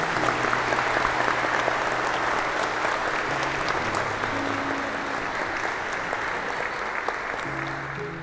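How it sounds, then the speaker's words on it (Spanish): Wedding guests at a church ceremony applaud the newlyweds with dense, steady clapping that continues evenly for the whole stretch, with a faint murmur of people beneath. "Un aplauso para estos nuevos esposos."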